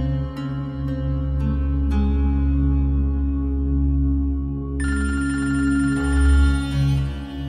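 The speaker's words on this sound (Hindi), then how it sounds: "साइमा इस वक्त क्यों फोन कर रही है?" A telephone rings repeatedly in sharp electronic bursts, then shifts to a brighter, continuous ringtone over a steady low hum; no one speaks.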